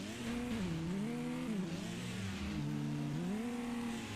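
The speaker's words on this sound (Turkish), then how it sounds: "Gerçekçi araba sesleri çıkıyor." A revving video game car engine from Need for Speed with pitch rising and falling as it accelerates and shifts, steady and close, with no voices.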